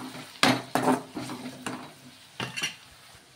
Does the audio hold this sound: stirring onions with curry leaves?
yes